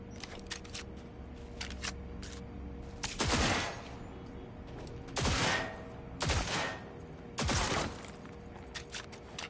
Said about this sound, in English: Three-round burst.